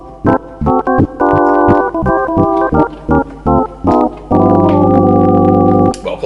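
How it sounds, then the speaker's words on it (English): Organ keyboard with vibrato effect in a 1950s style, bouncy short chord stabs in a quick rhythm with wavering pitch, then a long held chord, loud and up close, without voices. "that is the vibrato effect"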